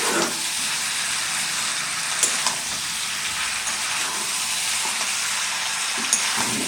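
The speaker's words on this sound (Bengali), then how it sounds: "এখন আমি আলুগুলো দিয়ে ভালো করে মাংসটাকে পেস্ট করে নিচ্ছি।" Duck meat and potatoes sizzle and fry steadily in hot oil in a pan, a continuous close hiss broken by a few soft scraping stirs, with no voices.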